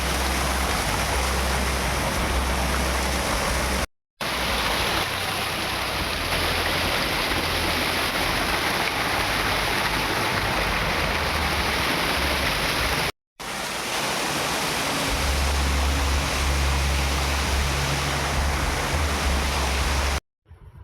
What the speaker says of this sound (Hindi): तो ये जो वाटरफॉल है हमारे इस पैलेस के अंदर ही आता है।